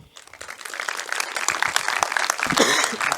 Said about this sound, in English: Round of applause for Koen and Eline.